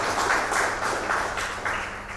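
Applause at an Alto K10 car launch at a dealership in Mangaluru, several bursts of clapping from a small gathering, fairly close and moderately loud, with little talk.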